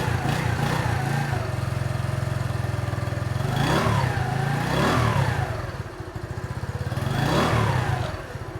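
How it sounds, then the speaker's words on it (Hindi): A 2023 Union Star US Smart 70 motorcycle's small 70cc engine idles with a rapid, even putter close by, rising into three short throttle revs before settling back to idle. "ये स्टार्ट करके हमें बता दें, तो आप साउंड सुनेंगे तो आपको अंदाज़ा होगा कि तकरीबन वही साउंड है जो आपको होंडा CD70 से मिलती है"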